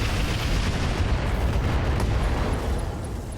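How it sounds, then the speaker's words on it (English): Ammunition cooks off inside a mech in the RogueTech BattleTech game. The result is a loud, sustained roar of explosive noise that fills the whole moment, with no voices over it. "Ammo explosion contained there."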